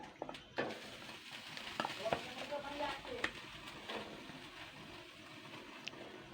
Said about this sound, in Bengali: এবার আমি মাছের মাথাগুলো দিয়ে দেবো, আস্তে আস্তে করে দিতে হবে নাহলে কিন্তু ছিটকাবে।